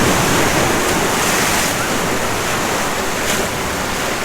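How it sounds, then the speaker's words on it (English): Ocean surf at Waikiki Beach, Hawaii, rolling in as a steady, loud wash of breaking waves with wind buffeting the microphone, continuous throughout and no voices. "But this is the beach. The famous Waikiki beach."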